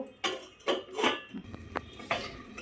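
A lid set onto a pot of Morola fish with potato and eggplant cooking, a few close metallic clinks and knocks spread over a couple of seconds.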